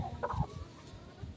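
A long-tailed chicken being held and handled gives a few short, close clucks early on, then low rustling and handling noise.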